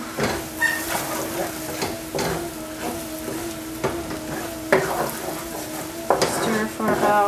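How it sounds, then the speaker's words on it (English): Crab noodle soup is stirred in a pot over medium heat, with a steady sizzle and repeated scraping, knocking strokes of the utensil against the pot at an uneven rhythm. "Keep it on medium, keep stirring."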